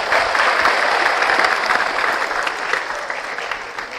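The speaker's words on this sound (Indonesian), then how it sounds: "Tepuk tangan buat semuanya" Dense, loud applause fills a school gathering at a vocational high school in Bandung, a continuous wash of many hands clapping that holds steady and eases slightly over four seconds.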